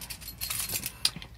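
Car keys for a Nissan X-Trail T30 are handled near the microphone, giving light metallic jingles and one sharper clink. No voices are heard.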